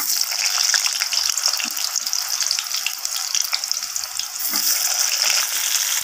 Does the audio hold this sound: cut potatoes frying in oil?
yes